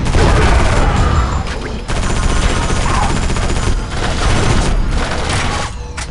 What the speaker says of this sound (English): Weapon noises are horrifically loud and reverberate violently off the base's walls.